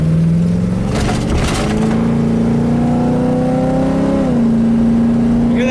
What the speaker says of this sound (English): Let's gun it, getting out here on the highway and see how she does.